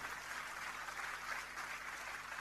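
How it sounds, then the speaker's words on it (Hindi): Faint, steady applause from an audience at an Amway business motivation event, an even wash of clapping that holds without a break from start to finish. "इनके लिए जोरदार तालियां"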